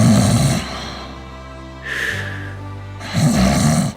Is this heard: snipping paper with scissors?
no